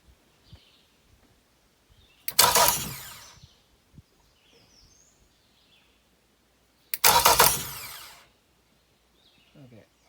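A Yamaha outboard motor's electric starter cranks in two separate bursts of about a second each, a harsh, close whirring grind with quiet pauses and small clicks between.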